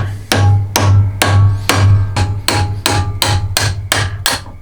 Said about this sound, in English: let's see if I can hammer that out